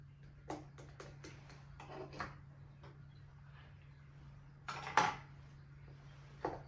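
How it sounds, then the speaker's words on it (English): A spoon stirs a mixture in a bowl, giving quiet, irregular clinks and scrapes against the bowl with a soft hum underneath. "I'll hold it, you stir"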